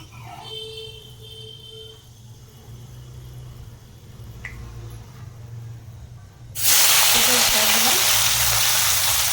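Fenugreek seeds go into hot oil in a kadai and break into a loud, sudden sizzle that stays bright and steady, after quieter kitchen sounds.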